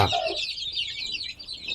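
A hen and her chicks cluck and chirp continuously at close range, a busy overlapping chatter of fowl with no talking.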